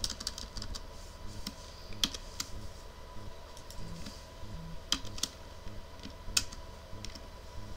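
Typing on a computer keyboard while working in a spreadsheet, a close, steady run of crisp key clicks with occasional louder strokes, and no talking.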